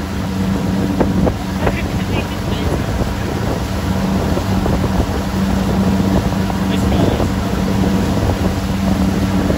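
Motorboat engine droning steadily and loudly on open water, mixed with wind buffeting the microphone and faint voices underneath.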